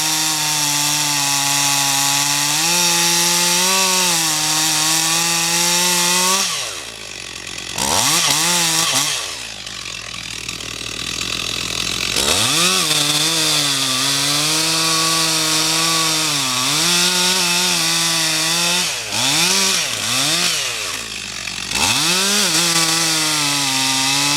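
Chainsaw cutting low through a damaged maple tree trunk, loud and close: steady high revving while the chain bites, with several throttle drops and re-revs between cuts, and no talk.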